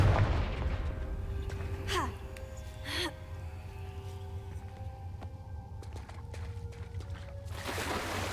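A Confringo spell blast in the Hogwarts Legacy video game fires in a couple of sharp whooshing bursts, followed by a louder blast near the end, over a steady game soundscape with music tones.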